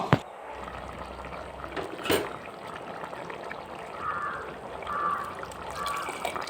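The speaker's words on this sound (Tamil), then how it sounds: "தேவையான தண்ணி விட்டு நல்லா கலந்துக்கணும்" Water is poured and trickles into a pot of lentils for okra sambar, with clattering handling sounds and a few brief splashes, close by and moderately loud.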